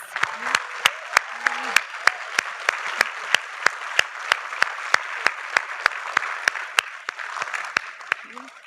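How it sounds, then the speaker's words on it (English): Graduates at the 2009 Illinois Institute of Technology commencement clap together, sharp individual claps ringing out over a broad bed of crowd applause, loud and close, with a voice briefly heard. "give yourselves, your family, and your friends a big round of applause"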